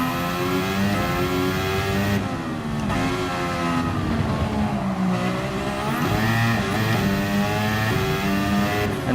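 Turbocharged car engine revving hard with turbo whine and brief tire squeal in the racing game Gran Turismo Sport, loud and continuous with rising and falling pitch as the car accelerates and shifts through short gears.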